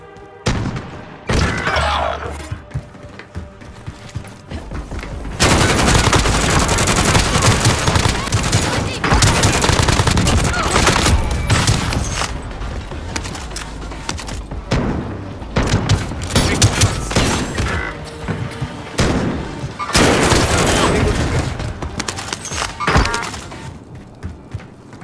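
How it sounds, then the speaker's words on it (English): Gunfire bursts, rapid fusillades with booms and thuds, loud and sustained across most of the stretch, with short quieter gaps between volleys. "shots."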